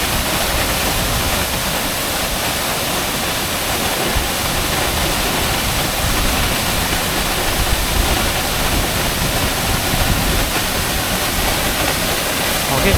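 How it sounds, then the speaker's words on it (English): Hunua Falls waterfall in the Hunua Ranges, New Zealand, roars as a steady, loud broadband wash of falling water heard from close by, unbroken for the whole stretch. "close to the waterfall."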